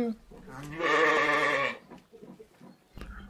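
One cartoon sheep gives a strong, sustained bleat, with lighter vocal sounds and a few soft knocks around it before and after.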